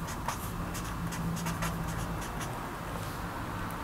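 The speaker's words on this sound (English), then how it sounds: "So let me write bust line." A label being written on a bodice pattern, soft close pen-on-paper scratching in short strokes, quiet and steady.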